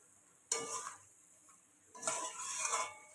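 Chicken being stirred and braised with water in a pan for a Bengali curd chicken dish, two short bursts of quiet sizzling and scraping separated by a pause.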